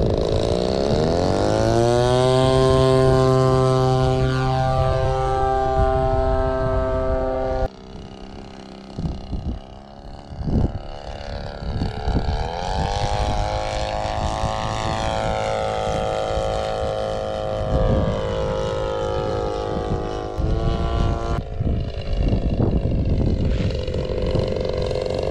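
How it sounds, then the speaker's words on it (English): A radio-controlled model aeroplane with a twin-cylinder petrol engine at an RC flying field drones loudly and continuously, its buzzing pitch rising and falling as the throttle opens and eases through passes. "This aeroplane of Ron's has a twin cylinder petrol engine"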